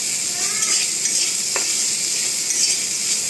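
Bitter gourd is stirred in a hot pan with salt and turmeric, giving a steady close sizzle and frying hiss with a brief utensil scrape partway through.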